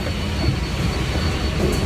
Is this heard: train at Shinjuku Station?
yes